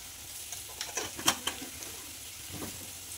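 Food fries in a pan during home cooking of meat and hilsa fish with taro, a soft constant sizzle under a few scraping stirs and light utensil clinks against the pan.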